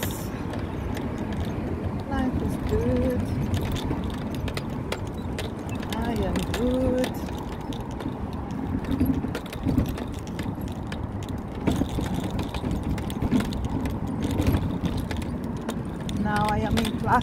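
A mobility scooter travels along streets on the way to Stratford Centre, giving a steady close rumble with scattered clicks and rattles throughout, while a voice speaks intermittently over the continuous motor and road noise.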